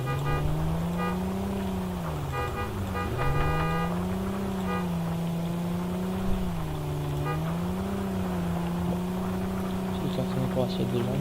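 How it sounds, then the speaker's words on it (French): A car engine drives in the video game Ring of Elysium, its steady drone rising and falling in pitch as the vehicle speeds up and eases off, staying close and loud for the whole stretch. "On va prendre la voiture je pense."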